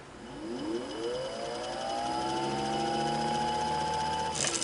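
A Singer Model 15 sewing machine, being restored after sitting unused, spins up with a rising whine that settles into a steady hum below full speed, fairly quiet and close, then stops with a brief clatter.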